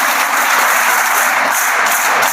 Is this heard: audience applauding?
yes